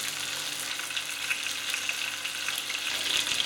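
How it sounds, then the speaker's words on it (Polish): Carp sizzles and crackles steadily in a hot pan, a constant frying hiss with small pops, fairly quiet and without speech. "Przełożyłam na drugą stronę i będę smażyć kolejne 4 minuty."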